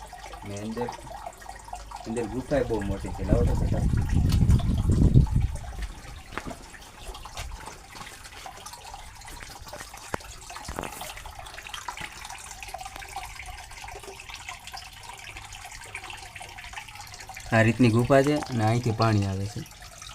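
Water runs and splashes steadily into a stone pool at Bhim Kund on Girnar mountain while a person talks briefly at the start and again near the end.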